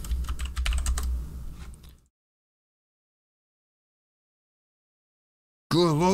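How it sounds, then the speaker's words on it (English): Rapid clicking on a computer keyboard, close and fairly loud for about two seconds, then silence, with a voice starting briefly at the very end. "love that clickety clackety noise"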